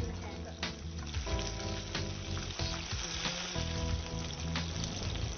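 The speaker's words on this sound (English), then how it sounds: "Heat the oil and fry the fish till golden and crisp." Fish fillets, dipped in egg and coated in corn flour, fry in hot oil for a senangin dish, giving a steady, loud, dense sizzle and crackle that holds throughout with no pauses.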